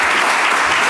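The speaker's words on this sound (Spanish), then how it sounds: "un aplauso por ese trabajo que hizo" Loud, dense audience applause at a presentation on the Asturian language, a continuous sustained clapping that stays steady throughout the brief moment.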